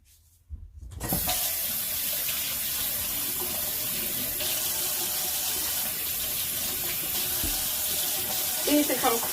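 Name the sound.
washing makeup spoolies with bar soap under running tap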